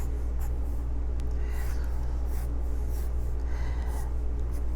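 A pencil scratches out a checker pattern on paper, short strokes in quick irregular bursts, close and soft against a low steady hum.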